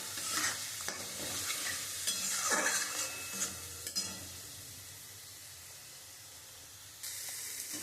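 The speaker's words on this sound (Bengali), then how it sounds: "আমি মাংসটা দিয়ে খুব সুন্দর করে কষিয়ে নিয়েছি" Chicken and spices sautéed in a pan, with clustered stirring scrapes and a soft sizzle early on, then a quieter steady hiss; faint overall.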